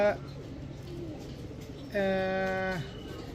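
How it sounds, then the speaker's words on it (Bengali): A pair of Sapchila pigeons cooing close by, one long rich coo near the middle over a steady background hum. "এখন দেখাবো এক জোড়া সাপচিলা কবুতর"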